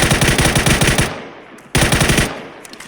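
Automatic rifle fire in the PC battle royale game PUBG, ranked squad match: a rapid, loud burst of shots for about a second, a brief pause, then a second sustained burst of rapid fire, with no voices.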